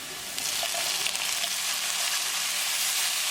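Onions and tomato fry in a pan for lobster curry with potato, a loud, dense, continuous sizzle close up with faint stirring.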